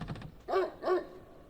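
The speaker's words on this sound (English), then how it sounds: "I hear a dog barking down here" Two distinct barks from a dog in the video game Spirit Hunter NG, evenly spaced and fairly close, following a brief patter of tapping at the start.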